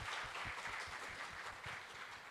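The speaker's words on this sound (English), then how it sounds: "Little round of applause we can give." Applause from an audience at a business annual meet, quiet and distant, a loose patter of clapping holding steady throughout without voices.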